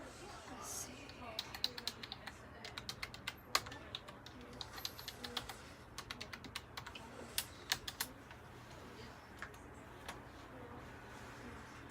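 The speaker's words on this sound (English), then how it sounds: "So I'm going to go ahead and type in our login so we can open this up." Keys clicking on a computer keyboard as a login is typed, quick uneven taps that are fairly faint and close over a quiet room hum.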